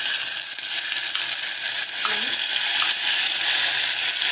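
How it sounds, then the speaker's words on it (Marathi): Spice masala frying in hot oil for a village-style mutton curry, a steady close sizzle with occasional stirring scrapes and no talk. "तेल टाकलं, तेल गरम झालं त्यासाठी आता ही आपल्याला पाहिजे तेवढा मसाला"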